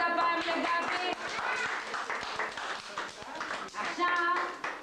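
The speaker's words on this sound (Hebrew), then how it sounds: "מחיאות כפיים" A group claps steadily and rhythmically at a small children's gathering, the crisp hand claps running throughout under children's and adults' voices.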